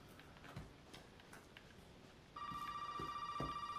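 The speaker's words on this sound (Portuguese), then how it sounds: "Opa, esse telefone maldito." A telephone starts ringing in the horror game Resident Evil 7, a steady electronic ring tone entering partway through over quiet footsteps and ambient creaks, fairly faint and continuous.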